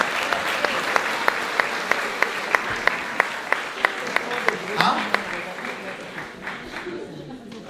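Church congregation applauding together in a sustained burst of clapping with a few sharp rhythmic claps, fading toward the end, with a voice speaking over it.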